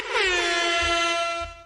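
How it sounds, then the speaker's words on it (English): One loud, brassy air horn blast sounds close up, holding for over a second before cutting off abruptly, alone without talk. "You deserve an air horn."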